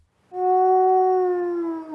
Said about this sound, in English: It sounds like a dog.